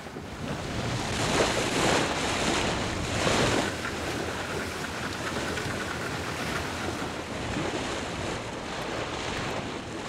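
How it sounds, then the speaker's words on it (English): Waves wash and surge inside a sea cave in Langkawi reached only from the sea, a steady broad roar with swelling pulses and gusty wind across the microphone. "It's accessible only from the sea. We call this a sea cave."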